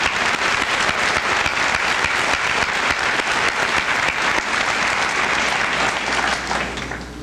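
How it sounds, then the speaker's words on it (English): Sustained, loud applause from a large audience at a school senior assembly honoring award winners, a dense wash of clapping that holds steady and thins slightly at the end. "One more nice round of applause for all those students."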